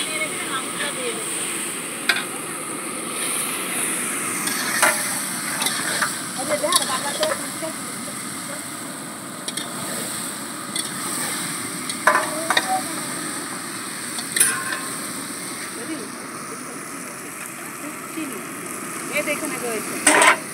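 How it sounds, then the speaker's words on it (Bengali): Meat frying in a pan of well-cooked spice masala, a steady sizzle with repeated scraping stirs and occasional sharp clinks, with faint voices in the background throughout. "মশলাটা খুব ভালো করে কষানো হয়ে গেছে, এখন এই যে মাংস নিয়ে রেখেছে মাংসটা দিয়ে দেবো।"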